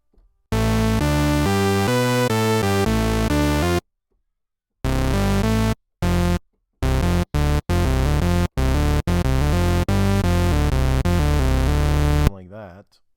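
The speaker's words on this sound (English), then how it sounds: "And I'll set this to a triangle wave, and it should sound something like this." Moog Model D analog synthesizer with oscillator 3 set to a triangle wave, playing a run of sustained notes, then a stretch of silence and a series of short choppy stabs, loud and close, with no voices.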